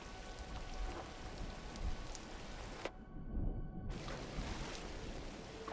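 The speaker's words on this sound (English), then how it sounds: "The sound of the rain disappears when she goes underwater." Steady rain pours throughout in the Gris video game, a dense hiss that cuts out abruptly for about a second as the character goes underwater, leaving a muffled low rumble, then returns at full strength.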